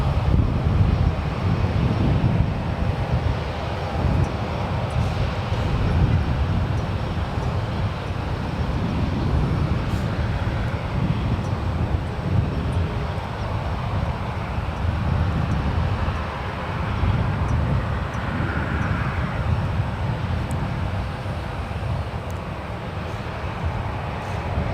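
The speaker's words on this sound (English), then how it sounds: "one left is Delta Airlines Flight 1036 heading to my home city, Detroit. 737-900ER, just 2 years of age." Delta Air Lines Boeing 737-900ER, two years old, Detroit-bound from San Francisco International, gives a long continuous jet rumble at a distance, mixed with wind buffeting on the microphone and no speech.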